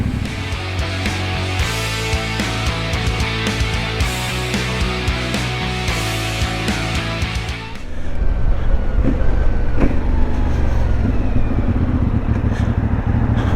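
A CF Moto 450 MT motorcycle with its standard exhaust, ridden on a test ride: a steady, loud engine drone that swells into stronger rumble and wind roar midway through, with no talk.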